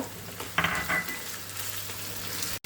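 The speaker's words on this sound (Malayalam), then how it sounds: "എണ്ണ ചൂടായിട്ടുണ്ട്. ഇനി അതിലേക്ക് ഇഞ്ചി ഇട്ട് കൊടുക്കുകയാണ്. പച്ചമുളക് ഇട്ടു, കറിവേപ്പില," Ginger, green chili and curry leaves hit hot oil and fry with a steady close sizzle, with a sharper burst of crackling and a clink of a utensil partway through.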